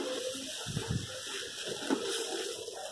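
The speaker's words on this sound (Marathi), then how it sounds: "तर या भाजलेल्या रव्यावर आता आपण हे जे गरम करून घेतलेलं दूध आहे ते आपण आता टाकून घेऊ" Heated milk poured onto roasted semolina gives a soft, steady gushing and sizzling hiss, close and continuous, with no talk.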